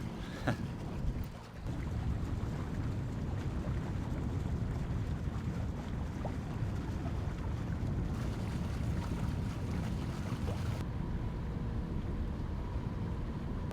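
Sailboat motoring under engine across a flat, windless sea between Turkey and Greece, a steady low engine drone with wind and water hiss throughout.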